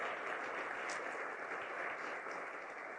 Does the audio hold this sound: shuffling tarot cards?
no